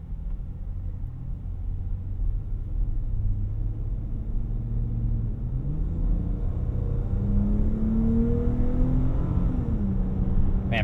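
A 2023 Dodge Challenger SXT engine pulls hard under acceleration, a deep steady rumble from inside the car with rising engine tones that climb through a gear change, continuous and close.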